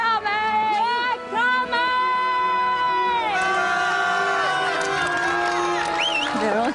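A crowd cheers, whoops and shouts for a racing team reaching the finish of an Amazing Race Asia leg, with loud, excited voices close by throughout.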